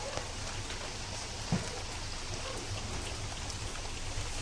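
Rain falls steadily on a rural Bengali home, giving a soft, even patter with a few slightly louder drops landing nearby. No one speaks.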